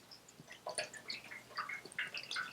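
Phosphoric acid rust killer, a thin runny liquid, is poured into a Honda CB550 motorcycle fuel tank, giving faint, close trickling and scattered dripping splashes.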